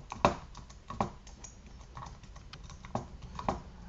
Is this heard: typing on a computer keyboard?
yes